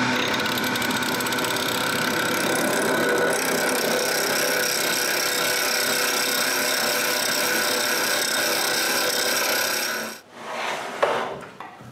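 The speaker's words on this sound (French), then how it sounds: "puis je finis de tourner un beau cylindre" Wood being turned into a cylinder on a lathe, with a steady, dense scraping and cutting hiss that runs continuously before stopping abruptly near the end, followed by a few faint clatters.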